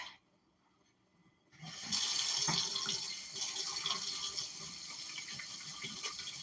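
Hot water gushes from a sink tap after a quiet moment, a steady close splashing stream that runs on without pause.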